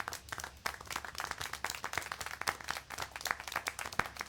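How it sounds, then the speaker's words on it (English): Clapping and applause from a small group in the video game Syberia: The World Before, uneven and crisp, continuing steadily throughout at moderate volume. "How can you clap?"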